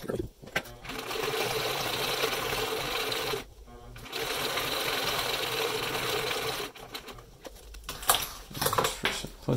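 A sewing machine set to its longest straight stitch runs steadily, stitching a vinyl sign into a tote bag, with short pauses and clicks between bursts of stitching.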